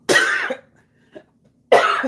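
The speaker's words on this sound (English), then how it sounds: "I have to cough." Two dry coughs ring out in a quiet room, one at the start and another after a pause, with a faint throat noise in between.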